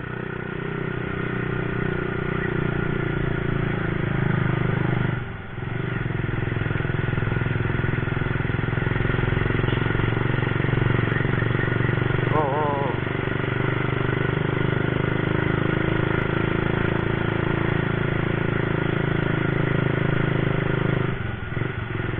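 A Honda C70 racing motorcycle riding through congested Bandung traffic, its engine a steady continuous drone with mechanical clatter, close and fairly loud, with a brief dip partway through and no talk.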